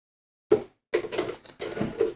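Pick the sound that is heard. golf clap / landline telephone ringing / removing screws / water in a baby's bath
removing screws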